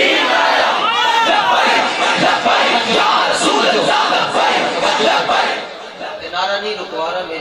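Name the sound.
crowd chanting religious slogan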